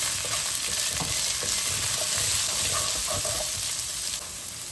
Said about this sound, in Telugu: ఇప్పుడు ఉల్లిపాయ ముక్కలు వేస్తున్నాను. దీన్ని కొంచెం అట్లా ఇట్లా తిప్పుదాం.